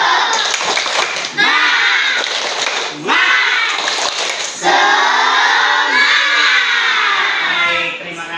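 A primary school class performs a rhythmic spirit-clapping cheer during a lesson, children's voices chanting loudly in bursts with claps between, a teacher leading, close and lively.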